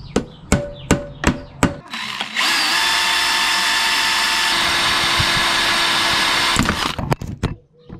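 Power drill boring a hole for a bracket on a Yamaha MBK Slider scooter: a few sharp taps, then a loud steady whine for about four seconds, ending in more knocks and handling noise.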